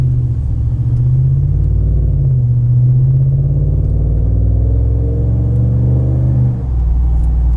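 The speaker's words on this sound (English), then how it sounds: "that typical Hemi rumble" A straight-piped 2019 Ram 1500 with a Hemi V8 rumbles steadily from inside the closed cabin, a deep continuous low drone with slight swells around 2,300 RPM and a brief dip near the end, no talk over it.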